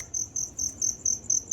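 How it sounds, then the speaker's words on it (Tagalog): Crickets chirp steadily at night in a quiet, remote rural spot, a regular pulsing trill repeating about every quarter second, moderately close, with no voices present. "Kuliglig."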